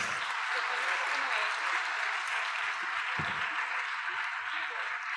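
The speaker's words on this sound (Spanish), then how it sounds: "pedirle a todos un aplauso para nuestros 3 panelistas de hoy" Audience applause for three panelists at a plenary session on transparency and anti-corruption, a steady wash of clapping across the room with faint voices underneath.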